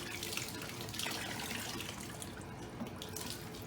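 Leftover water pours out of a sump pump tilted over its crock during replacement, a steady, moderately close splashing stream running throughout without a break.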